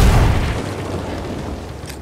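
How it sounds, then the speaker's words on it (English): A grenade going off in Ghost Recon Breakpoint, a single close, heavy boom with a rumbling tail that fades over about two seconds. "Grenade down!"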